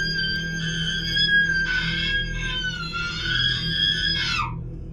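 A woman's scream, processed with distortion and echo as an audio drama effect, rings out as a long wavering cry over a low droning background, ending in a sharp falling wail.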